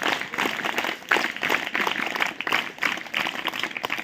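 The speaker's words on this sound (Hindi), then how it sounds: "Hands up, clap go." An audience clapping in a rhythmic, pulsing pattern at a talk, a steady mid-level patter of many hands repeating in even beats for several seconds with little voice.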